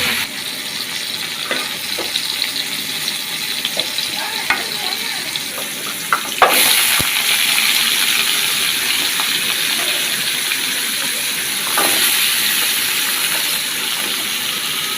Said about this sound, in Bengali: গাজর এবং আলুটা ভাজি নিতেছি একসাথে